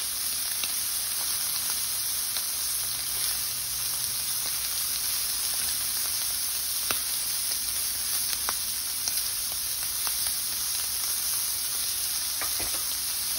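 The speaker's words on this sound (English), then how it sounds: "Just searing off the shrimp just to get a good sear on them" Shrimp searing in a hot pan for teriyaki stir fry, cooked in batches, give a steady, dense sizzle that holds at an even level throughout, with faint scattered pops and crackles and no talking.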